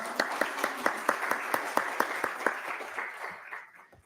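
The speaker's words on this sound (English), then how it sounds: "Yes, please welcome her. Round of applause." An audience at a brain health conference applauds, a steady round of clapping with distinct individual claps that tapers off near the end.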